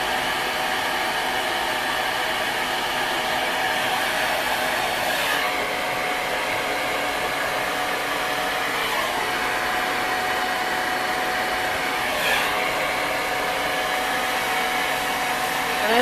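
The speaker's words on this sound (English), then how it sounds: "Really important for me to have a pretty light blow dryer when I'm holding it all day" A Salon Tech Feather Light blow dryer runs continuously while drying hair, a loud steady whooshing roar with slight shifts in airflow as it moves, no talking.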